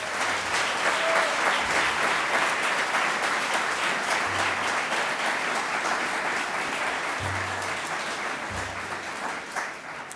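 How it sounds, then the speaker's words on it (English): Sustained audience applause for a group of student singers at a city's State of the City address, a thick, even wash of many hands clapping at steady loudness, gradually easing toward the end, with no talk. "Let's give these students a big round of applause."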